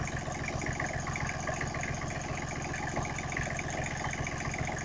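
A rebuilt small diesel engine idles steadily, with a constant mid-to-low mechanical drone and an even rhythmic chug running unbroken at moderate loudness from start to finish.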